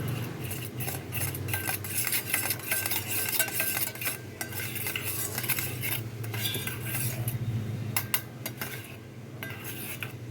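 A spoon stirs tomato sauce into a pan of frying food, making a continuous soft scraping and clinking of metal against the pan at low volume, with no one speaking.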